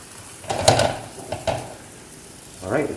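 Spring onion pancake frying in a pan, with soft sizzling and a few clattering bursts as it is handled and flipped, then quieter frying in between.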